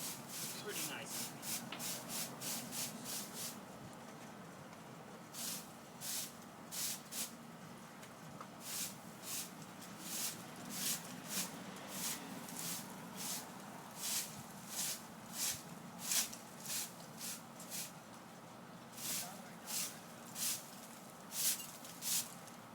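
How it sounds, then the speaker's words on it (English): Kitchen broom sweeping up debris outdoors after a hurricane, a run of quick rhythmic scratchy strokes followed by slower repeated sweeps, close but fairly quiet, with faint voices in the background. "And I go over it with a kitchen broom, and that."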